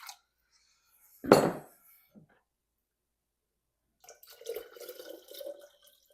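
Water poured into a container of eggs being preserved: a brief splashing burst early, then quiet, followed by a run of small trickling, clinking sounds near the end, close and fairly soft.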